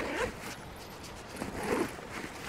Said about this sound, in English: up top. Zippered closing.